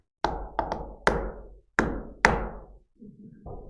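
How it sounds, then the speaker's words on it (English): Knocking on a front door in a little rhythmic tune: six firm, loud raps in an uneven pattern, each ringing briefly, followed by faint shuffling and a soft thud. "So I like to put a little tune to my knock"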